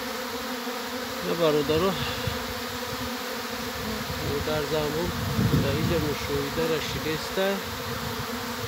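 A swarm of bees drones steadily nearby, a dense buzzing hum with individual insects rising and falling in pitch as they fly past, while someone talks over it.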